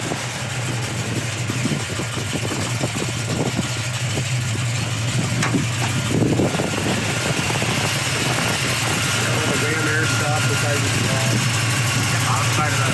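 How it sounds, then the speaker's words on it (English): The V8 engine of a rebuilt 1973 Ford Mustang Mach 1 idles with a constant low rumble throughout, with faint voices and background noise mixed in. "Engine sounds good."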